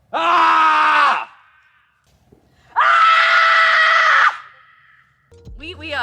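A person screams for stress relief, letting out two long, loud, sustained screams separated by a short silence, followed by a brief clipped vocal sound at the end.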